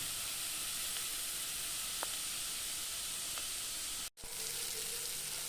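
Mackerel frying in a pan in a home kitchen gives a steady, close sizzle that holds evenly throughout, with a brief dropout near the end.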